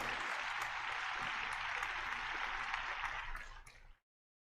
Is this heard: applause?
yes